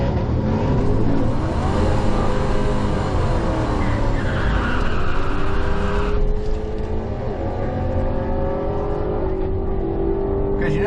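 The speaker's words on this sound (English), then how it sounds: "I'm gonna not put it on the two-step, which is at 2500, and see if it hooks at a 3000 RPM launch" A car fitted with a ported Dorman intake launches hard from 3000 RPM, its engine roaring loud and close with rising revs and a tire-squeal edge.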